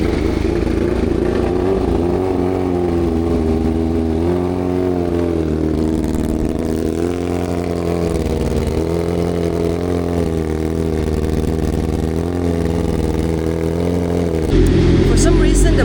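A BMW M1000 RR sport bike fitted with an Akrapovic full titanium header and SC Project exhaust, starting and then running loud and close, its engine note rising and falling through repeated revs before a sharper burst at the end.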